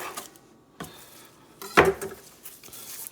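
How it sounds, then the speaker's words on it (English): A knife chopping through the root ends of fresh green onions on a cutting board, a few sharp, close knocks with one strong chop standing out, no talking. "So cut the bottom off."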